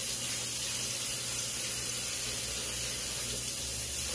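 Running tap water sprays steadily onto a plate being rinsed in a kitchen sink, a constant close hiss without pause.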